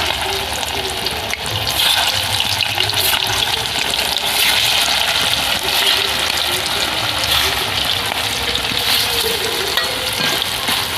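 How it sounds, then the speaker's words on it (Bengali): Snakehead fish sizzle steadily in hot oil in a home kitchen, a loud, continuous crackling hiss that stays even throughout with no pauses. "তেল গরম হয়ে গেছে, মাছগুলো ভেজে নেব।"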